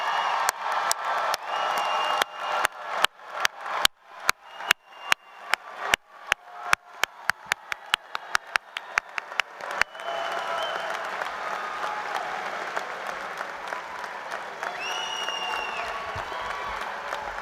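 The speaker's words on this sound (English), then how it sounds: "give the class of 2023 a big round of applause" Loud sharp claps ring out one by one, then give way to sustained crowd applause with scattered cheers and whoops at a college commencement ceremony.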